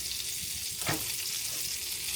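Breakfast food frying in a pan gives a soft, steady sizzle and crackle, faint and continuous, with one brief louder scrape or stir partway through.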